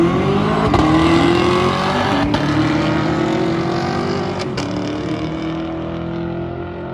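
A car doing a burnout on the drag strip start line, its engine holding a loud, sustained high-revving roar with sharp crackling bursts, close by and steady for several seconds.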